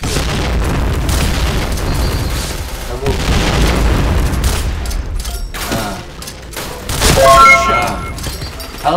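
Bomb explosions in the shooter game Point Blank, heavy booming blasts layered with crackling bursts and rattling gunfire, loud and dense across the whole stretch.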